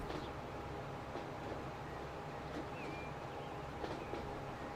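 Train running in the video game Transport Fever 2, a faint, steady rumble of rolling rail wagons with a few light squeals and clicks, no talk.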